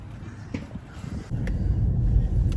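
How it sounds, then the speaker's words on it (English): Gusty wind buffets the microphone outdoors in a store parking lot ahead of a heavy snowstorm, a low roaring rush that grows stronger in the second half, with a few faint knocks and no talk. "Wind's kicking up a little bit."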